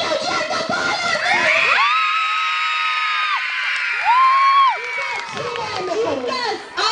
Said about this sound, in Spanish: ¡Aplaudiendo y aullando a todos los niños!